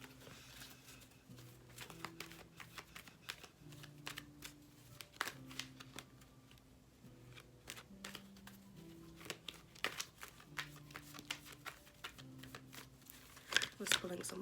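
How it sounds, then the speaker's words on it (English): Tarot cards being shuffled in repeated riffles and flicks, close by, with a soft low hum beneath and a few sharper snaps near the end. "I was pulling some more cards for you guys and shuffling."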